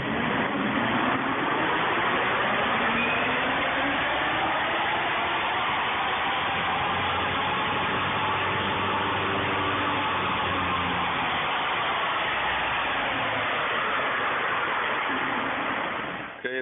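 An electric car accelerates through a second gear run with a continuous whine that rises and then falls in pitch over the run, under a steady wash of road and wind noise that cuts off abruptly at the end.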